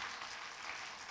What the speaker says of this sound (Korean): 박수 한번 쳐줘요.